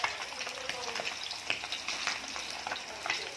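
Fresh soft-fleshed fish frying in a pan of hot oil, a steady dense sizzle with scattered crackling pops, close and continuous throughout.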